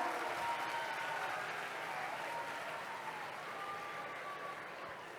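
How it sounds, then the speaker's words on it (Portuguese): An audience claps steadily through a talk on nanotechnology applications, a dense, even patter of applause that slowly fades over a few seconds. "Pode aplaudir, vai, vai, vai!"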